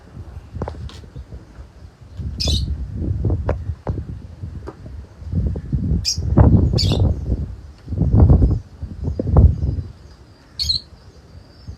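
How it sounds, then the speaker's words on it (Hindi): Pigeons on a rooftop loft in DHA Karachi, in a champion pigeon-flying setting, give low cooing calls in repeated bursts, with higher chirps of other birds and gusts of wind noise throughout. "ये वो कबूतर है जो ऊपर से आया है।"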